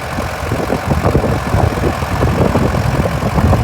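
A fully overhauled tractor engine idles steadily nearby during sunflower sowing, a continuous low rumble with a rough, knocking texture and no voices.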